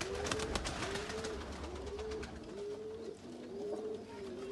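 Kasuri pigeons coo inside a loft, a repeated soft rolling call that rises and falls every second or so, close and steady against a faint background.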